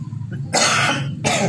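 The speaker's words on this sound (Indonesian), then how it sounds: "batuk Pak" Two harsh human coughs close to the microphone, the first longer, the second starting just after, with a quiet murmuring background before them.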